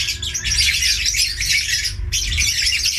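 Chickens, a rooster and a hen, squawk and cluck continuously at close range, their calls overlapping in a steady noisy chorus with a short pause near the end.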